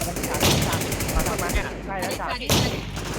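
Rapid bursts of gunfire in the video game Infestation SEA crackle nonstop, with heavy automatic volleys and a few louder shots standing out, dense and close throughout.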